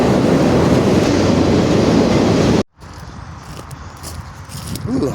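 Freight train boxcar rolling along rails, a loud steady rumble with rattling from inside the car, which cuts out abruptly partway through and gives way to quieter clanking and a softer ride.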